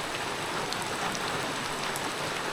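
Steady rain pours in a deep forest village in rural Laos during the rainy season, an even, close hiss of drops on surfaces with no voices or breaks.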